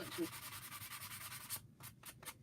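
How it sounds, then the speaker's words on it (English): Sandpaper rubbed back and forth along the edge of a waxed wooden vintage truck cutout, a close, steady scratchy rasp in quick repeated strokes, with short pauses near the end. "Didn't have any choices for some sandpaper on this, even though I already waxed it."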